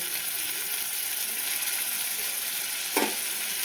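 Ginger garlic paste sizzles in hot oil with fried onions over a low gas flame, a steady faint hiss with one brief louder spatter as the paste goes in; no voices.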